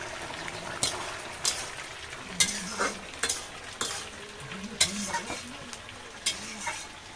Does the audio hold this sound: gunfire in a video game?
no